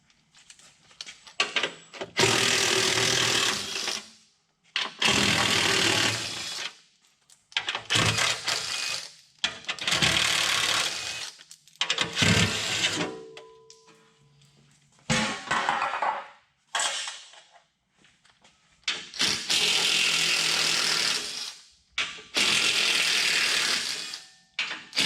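A ratchet works loose the factory differential skid plate on a Chevy ZR2 diesel pickup, giving loud, close bursts of rapid clicking, each a few seconds long and separated by short pauses.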